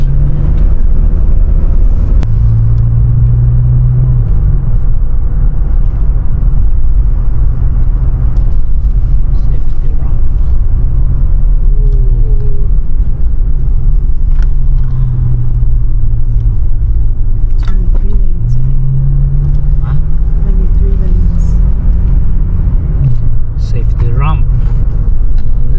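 A car cruises along a mountain road at 60 to 80 km/h, a loud continuous low rumble of engine and road noise with shifting engine tones, while people talk inside the cabin.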